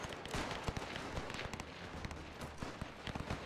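Grenades thrown by WW1 troops in the strategy game Between Empires explode in a dense, continuous battle din of rapid overlapping blasts and cracks, faint and distant-sounding, with no talking.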